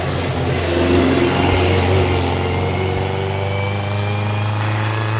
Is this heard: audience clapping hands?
no